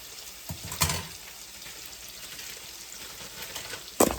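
Garlic frying in a pan gives a steady, soft sizzle throughout, with a couple of brief louder clatters, likely utensil or pan contact, near the start and again near the end.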